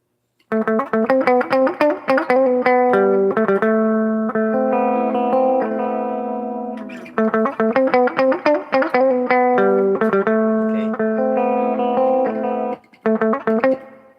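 Two electric guitars with all volume and tone controls turned up ring out through an effects unit, strummed chords and picked notes with distortion and chorus, loud and continuous with brief pauses.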